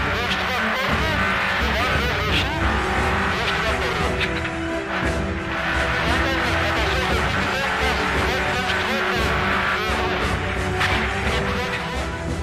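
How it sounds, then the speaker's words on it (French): A Porsche rally car runs in the 2014 Morocco Historic Rally, its engine droning loud and continuous while a commentator talks over it. "Bernard Münster et sa Porsche."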